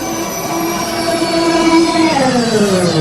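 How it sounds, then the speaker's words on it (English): A sci-fi Rocket Railroad express train pulls into a platform with a loud, steady tonal whine and rumble that glides downward near the end, as if slowing to a stop, with no voices. "Mingo City Express is now arriving on platform Zeta 3."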